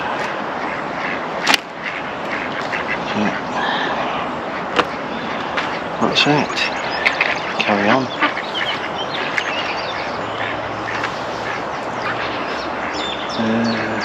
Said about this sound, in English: Feed the ducks.